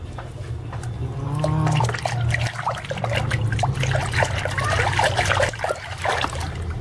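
Toy animal figures, such as a plastic elephant and rhino, are washed in a container of water, giving steady trickling and splashing close by with no talk over it.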